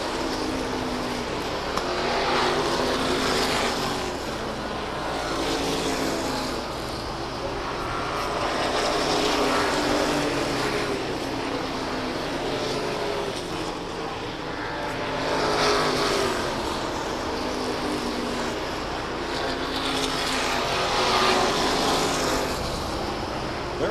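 NASCAR Modified Tour race cars roar around the Waterford Speedbowl oval, their engines rising and falling in repeated waves as the pack passes, a loud continuous engine drone throughout with no clear talk.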